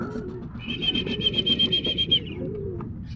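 Racing pigeons cooing at a loft in Bocaue, Bulacan, with a nearby bird's throaty coos over a soft background murmur and a bright, sustained high twittering call midway.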